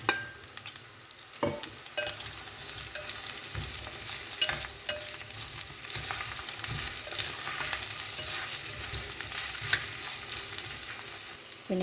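Beans, tomato and green chillies frying in oil for a vegetable sothi, a continuous close sizzle broken by frequent clatters and scrapes of stirring.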